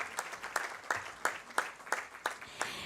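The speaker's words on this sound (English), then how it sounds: "may I request you to put a huge round of applause as we thank our Honorable Minister" At the FICCI HEAL 2025 health conference, rhythmic clapping in unison sounds at a steady beat of about three claps per second, fairly faint and distant, over low background room noise.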